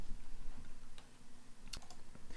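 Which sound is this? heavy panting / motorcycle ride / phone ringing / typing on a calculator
typing on a calculator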